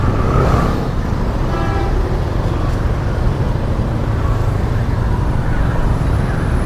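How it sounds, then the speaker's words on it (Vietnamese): Heavy morning traffic on Ly Thuong Kiet road toward Tan Binh market in Saigon, a constant loud roar of motorbike and car engines close by, without pause, with a faint horn toot. "buổi sáng ngày hôm nay phải nói mật độ xe cộ lưu thông rất là nhiều"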